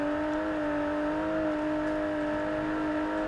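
Range Rover Velar petrol engine with an 8-speed automatic in the video game Forza Horizon 4, a steady humming drone at moderate loudness, alone and unbroken.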